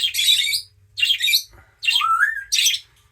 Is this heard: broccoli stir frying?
no